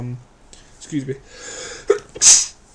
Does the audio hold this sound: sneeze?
yes